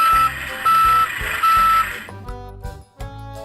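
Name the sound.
delivery truck reversing warning beeps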